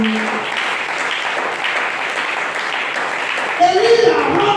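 A church congregation at a Friday worship service applauds steadily throughout. Near the end, voices call out over the clapping.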